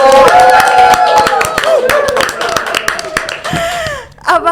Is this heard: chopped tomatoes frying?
no